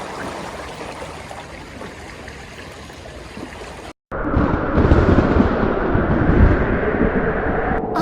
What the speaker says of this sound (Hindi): बाहर तो तूफान थमने का नाम नहीं ले रहा